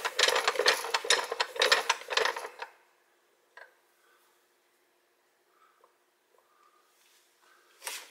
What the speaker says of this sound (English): And bring the press down.